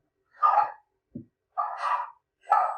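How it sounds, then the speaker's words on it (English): Dogs bark indoors during a town finance committee meeting: four short, sharp barks spaced irregularly across a few seconds, clear and fairly close against an otherwise quiet room. "The dogs are weighing in."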